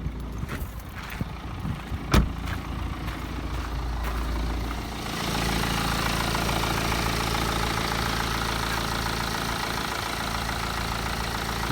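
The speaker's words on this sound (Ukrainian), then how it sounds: "Двигун робить чисто" A 2011 BMW X1's engine runs steadily at idle, a low continuous rumble with an even rhythm and no other sounds, after a brief click near the start.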